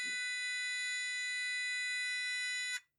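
A VTech PreComputer 1000 running a BASIC alarm clock program sounds its alarm as a steady, loud electronic buzzer tone with rich harmonics that holds for nearly three seconds and then cuts off abruptly.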